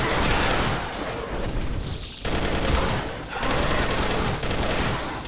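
A drum-magazine gun in Brutal Doom (Project Brutality) fires sustained, rapid bursts of loud, dense gunfire, broken by two brief pauses before streaming on again.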